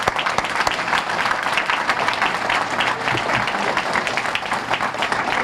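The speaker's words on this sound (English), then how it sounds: "I want to make sure that she gets an applaud as well." Audience applause at an official Main Street opening ceremony, a dense, steady wash of many hands clapping at close range that holds loud and even from start to finish, with no speech over it.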